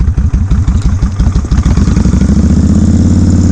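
A V-twin motorcycle engine sits close and loud, its rhythmic lumpy pulses rising in a rev and then settling into a fast, steady throbbing beat.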